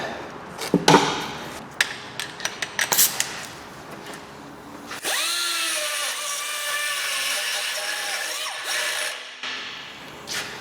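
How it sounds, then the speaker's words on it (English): A die grinder cuts through a broken nut on a Fiat Grande Punto oil sump, a high whining grind running steadily for several seconds after a series of sharp clanks and knocks of tool handling. "so I'll have to use the old die grinder"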